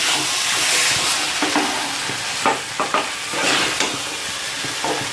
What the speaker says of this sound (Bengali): লেবু রসটা দিয়ে দেবো নাড়াচাড়া দিয়ে নামিয়ে নেব